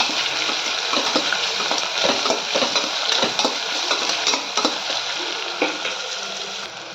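Onion and potato frying in oil with cumin, peanuts and curry leaves, a steady sizzle broken by repeated scraping and stirring clatter of a spoon against the pan, close and continuous, tapering toward the end.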